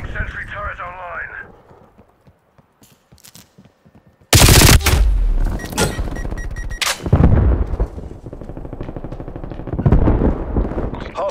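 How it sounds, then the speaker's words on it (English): Gunfire from a sentry turret in Call of Duty: Black Ops Cold War, with sudden loud bursts of shots and booming impacts breaking in after a quieter stretch with a voice, then repeated sharp volleys over rumbling game noise. "Bringing sentry turret online."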